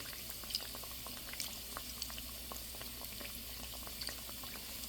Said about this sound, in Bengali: এভাবে তেল ছিটিয়ে ছিটিয়ে ভেজে নিতে হবে